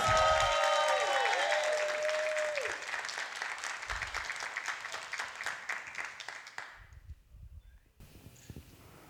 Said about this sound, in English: let's give a nice, amazing round of applause to the Prima Donna Dancers